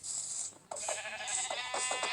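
Sheep in the Minecraft video game bleat several times in quick succession, with short bright repeated calls, close and clear, and no talking.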